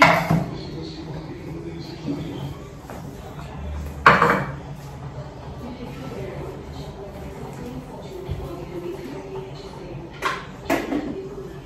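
Ground rice is scooped from a grinder jar into a small bowl in a home kitchen, with a few sharp metallic clinks and clatters of utensils against dishes. Someone talks over the handling sounds.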